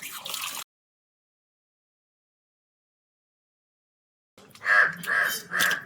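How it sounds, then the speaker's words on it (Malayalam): A crow caws three times in quick succession outdoors after a long silence, loud and harsh, with a brief earlier call at the start. "പുറത്ത് നല്ല കാക്കകളുടെ ശല്യം ഉണ്ട് കേട്ടാ"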